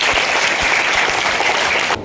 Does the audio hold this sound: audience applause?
yes